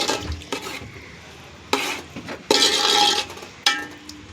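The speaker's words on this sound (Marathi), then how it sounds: "आणि मस्त तेल सुटस तोपर्यंत हलवून घ्यायचं आहे." Yogurt being stirred into mutton biryani in a pot, a few separate bursts of spoon scraping and wet sizzle with short pauses between them, fairly close.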